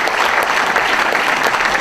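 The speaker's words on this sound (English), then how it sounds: "Let's again, a big round of applause for Dale, who has done these awards." A banquet crowd at a Georgia barbecue championship gives a big round of applause, a dense, steady roar of many hands clapping at full volume without pause.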